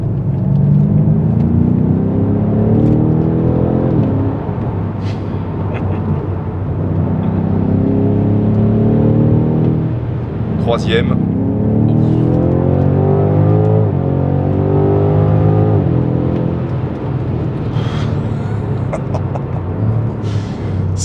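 A BMW M5 Competition F90 sedan engine pulls hard through the gears, loud rising revs with sharp shift breaks and repeated climbs in pitch; a voice briefly speaks over it.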